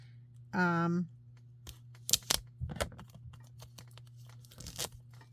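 A Stampin' Up Paper Pumpkin kit package is opened: a short vocal sound comes first, then scattered crinkles, tears and rustles of paper and plastic, close and moderately quiet, with occasional speech in between.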